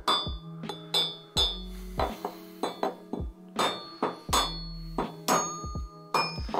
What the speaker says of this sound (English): I'm going to take my hammer and I'm going to hammer it down into the gas tube like this.